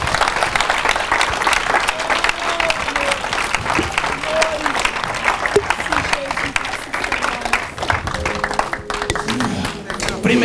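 A church congregation applauds and cheers in praise of the Lord, dense sustained clapping with shouted voices mixed in, steady and loud across the whole stretch.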